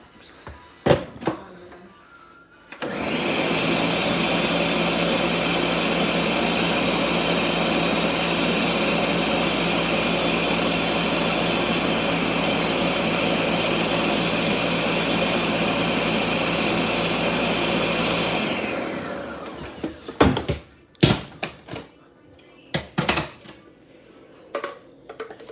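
A blender or food processor purees food while crab cakes are made at home. It roars loud and steady for about fifteen seconds, starting and stopping abruptly, with scattered clatter and handling knocks before and after.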